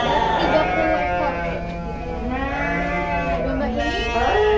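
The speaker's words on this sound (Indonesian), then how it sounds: "di sini ada domba-domba yang dipelihara kurang lebih ada 30 ekor" Sheep on a farm holding about thirty animals raised for meat, bleating in repeated wavering calls close by while a person talks over them.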